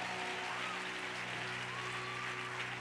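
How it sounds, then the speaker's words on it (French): Congregation applauding and acclaiming Jesus at a French-language church seminar evening, dense continuous clapping over a sustained musical drone and hum, loud and unbroken. "Nous acclamons Jésus"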